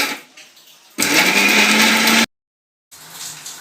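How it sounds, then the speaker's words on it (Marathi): A mixer grinder whirs loudly for about a second and a half while blending masala with garlic and ginger for a Vidarbha-style soybean vadi curry, then cuts off abruptly, with quieter kitchen noise before and after. "आणि हा मसाला याच्यामध्ये लसूण अद्रकसुद्धा टाकायची आहे आणि हा मसाला मिक्सरला आपल्याला फिरवून घ्यायचा आहे"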